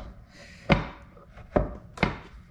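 A Westmark stainless steel knife slices through cheese on a cheese board in three separate firm thunks, each a sharp cut landing on the board, close and clear with quiet pauses between.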